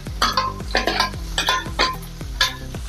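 Tomatoes go into a sizzling pan for a spicy green chili sabzi and get stirred, a spoon knocking and scraping the metal in quick repeated strokes over a steady frying hiss, close and without talk.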